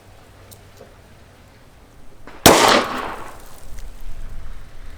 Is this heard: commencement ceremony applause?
no